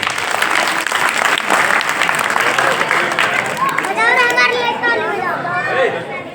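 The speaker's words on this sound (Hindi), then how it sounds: "आप सभी से एक बार निवेदन है कि इन बच्चों के लिए जोरदार तालियां बजाइए" Loud, sustained applause from a crowd at a village religious gathering, cheering a group of children, mixed with excited children's voices and chatter that grow more prominent toward the end.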